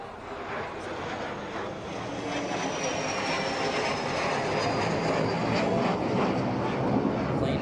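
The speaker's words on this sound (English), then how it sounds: "Plane flies over here at the Rinker Athletic Campus." A plane flying over a college baseball field at Rinker Athletic Campus under the Palm Beach International Airport flight path, a steady broad engine roar holding loud throughout, with faint crowd noise beneath.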